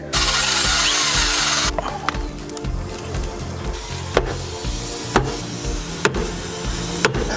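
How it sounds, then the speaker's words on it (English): A power drill grinds loudly for nearly two seconds while boring into a sailboat hull, then gives way to a busy hum of machinery with scattered sharp knocks and clicks. "We'll drill a couple of holes in to investigate."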